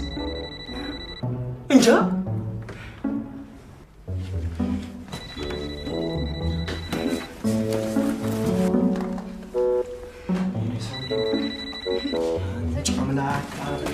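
A telephone rings in short repeated bursts in an Amharic film scene, heard amid music, background sounds and people talking.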